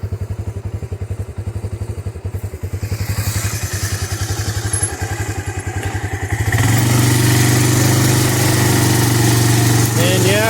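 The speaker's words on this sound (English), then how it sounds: "I can feel the engines laboring a little bit with that, but not too bad." A Honda Big Red utility vehicle hauling logs on a new trailer, its engine chugging in a rapid steady beat close by, then settling into a louder, smoother drone under a faint voice.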